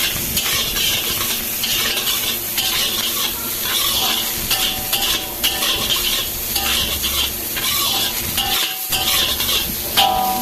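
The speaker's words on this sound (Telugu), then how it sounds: "ఇప్పుడు బాస్మతి రైస్ 1 cup దాన్ని బాగా మిక్స్ చేసి" A cup of basmati rice stirred through hot oil in a pan for chicken fried rice: a dense, continuous sizzle with constant scraping of the spoon, loud and close, no voices.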